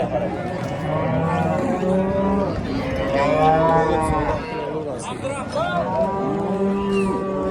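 Cattle at a cow market in Qarshi, Uzbekistan, moo repeatedly in long drawn-out calls that overlap one another, while people talk and a crowd murmurs throughout the noisy market.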